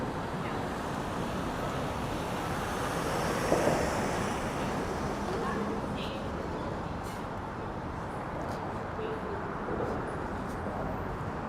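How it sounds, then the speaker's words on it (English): Steady wind buffeting the microphone outdoors in Manhattan, New York City, a constant low roar with no voices. "it is slightly windy right now"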